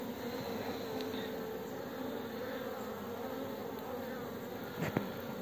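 Honeybees busy at a hive entrance on a mild February day, a dense steady buzz of many insects close by with no voices.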